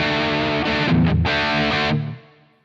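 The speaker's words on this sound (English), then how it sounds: "You've got kind of a heavier rhythm tone." Heavy distorted rhythm electric guitar tone from a Quad Cortex preset, thick chugging chords played loud and close for about two seconds before ringing out and fading.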